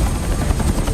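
A helicopter lifts off from a rooftop, giving a loud, close, continuous rotor roar with a low rumbling thump and no voices.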